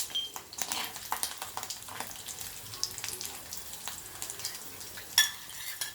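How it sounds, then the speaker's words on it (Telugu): Garlic and peanuts fry in a little oil for a dry chutney to go with vada pav. A low, steady sizzle runs under light stirring scrapes and a few sharp clinks of a utensil against the pan, with no talking. "ఈ వెల్లుల్లిని ఇలా కొంచెం ఆయిల్లో వేసుకోవాలి"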